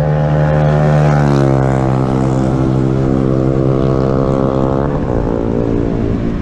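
A loud motorcycle with a noisy aftermarket exhaust roars close by, a dense, harmonically rich engine drone that holds steady and then shifts pitch as it passes.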